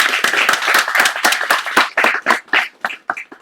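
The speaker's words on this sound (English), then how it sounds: "Let's give Marie, Aiden, Ricardo, and Chris another round of applause for a wonderful reading." Audience applause after a poetry reading: a small crowd claps in close, distinct bursts that thin out toward the end.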